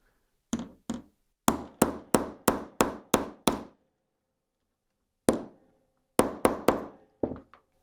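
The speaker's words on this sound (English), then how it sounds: "put this tool on top of it, and smash it with a hammer" A hammer strikes a metal setting tool on fabric while a sewing project is made, a loud, close series of sharp knocks in quick bursts with short pauses between groups, and no voices.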